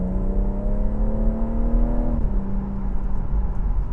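BMW M140 engine pulls in sport mode from inside the cabin, a steady droning growl rising in pitch, then dropping abruptly as it shifts, over constant road rumble.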